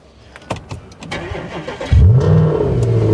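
BMW M5 with a V10 engine starting up: starter cranking with clicks, then a loud close catch and rev flaring into a steady deep idle, no talk.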